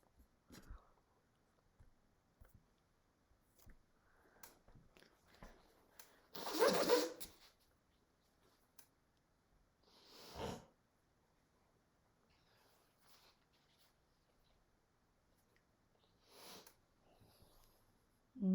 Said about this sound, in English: Excuse me, I have to blow my nose.